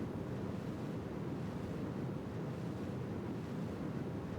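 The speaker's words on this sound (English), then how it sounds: "fire the engines, and off we go" Rocket engines fire in the space game Juno: New Origins, a steady, broad roaring rush like heavy wind or surf, continuous and even with no breaks or voices.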